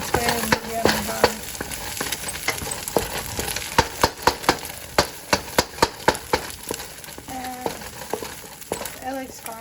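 Vegetables and egg stir-fried in a hot wok over medium-high heat, with steady sizzling, a run of sharp clacks from the utensil against the pan, and a few brief voice-like tones mixed in.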